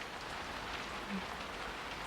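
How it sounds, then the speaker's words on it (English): Heavy rain pours down outside a window, an even, steady hiss of drops heard from indoors, fairly quiet and unbroken. "So it's pouring down rain out there"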